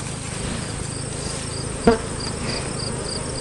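Honey bees buzz around a hive during a honey harvest, a steady, dense swarm drone close to the microphone, with one brief sharp tick midway and no speech.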